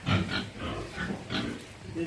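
A large 150-kilogram pig grunts and oinks in a series of snorts at close range in a rural Hmong village pen, while people talk over it.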